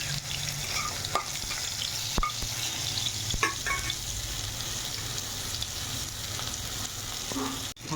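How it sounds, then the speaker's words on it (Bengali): Fried potatoes sizzle in a wok with tomato and black cumin, a continuous close hiss with scattered clinks and scrapes of a utensil against the pan, moderately loud and without speech. "ভাজা আলুটাকে আমি দিয়ে দিলাম কড়াইতে।"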